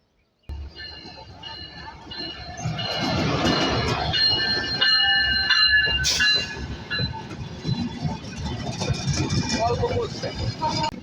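A train rumbles into a platform close by with rising wheel and carriage noise and a brief high horn burst partway through, voices mixed underneath.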